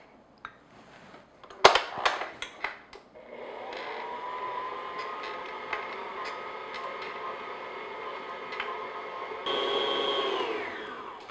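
An electric hand mixer beats butter and powdered sugar for candy cane cookie dough, a steady motor whir that holds from a few seconds in and rises slightly in pitch near the end, after some brief clatter at the start.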